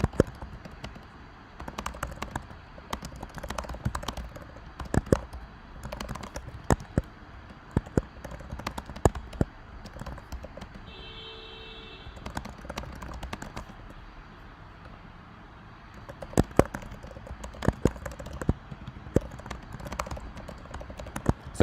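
Typing a message on a computer keyboard, irregular bursts of light clicking keystrokes with pauses between them, close and fairly quiet.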